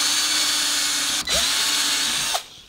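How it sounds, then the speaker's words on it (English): A power drill bores pilot holes into the wood of a guitar body for the neck plate screws, a steady high whine running throughout with a brief dip midway and another change near the end. "Then I'm going to drill some pilot holes into here at the points where I've marked out."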